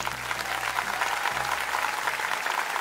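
Studio audience applauding at a televised talent show audition, a steady dense clapping roar from many people that continues evenly for a few seconds, with a faint low hum underneath and no talk.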